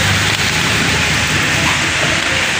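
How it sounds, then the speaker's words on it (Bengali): Heavy monsoon rain falls hard and close, a loud, unbroken roar of water with no talk. "দেখো কেমন বৃষ্টি পড়ছে,"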